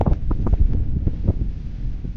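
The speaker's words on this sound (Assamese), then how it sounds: "এতিয়া বতাহ আহিছে দিছে" Wind blows in gusts across the microphone on a foggy roadside, loud buffeting rumbles rising and falling in uneven bursts, close and alone without any talking.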